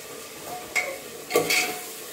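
Spices for South Indian sambar fry in a pan with a steady soft sizzle, broken by a few louder stirring scrapes, close and fairly quiet with no talking.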